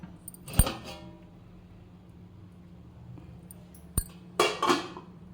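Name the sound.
opening the lid of an idli steamer pot after cooking modak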